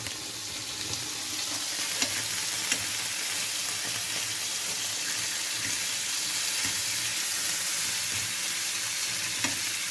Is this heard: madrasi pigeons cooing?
no